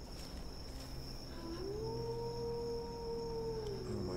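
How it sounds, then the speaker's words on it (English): A long, drawn-out animal howl rises and holds in the horror video game Left Behind for about two seconds, carried over a constant high insect-like drone and low ambient rumble. "That's a long howl."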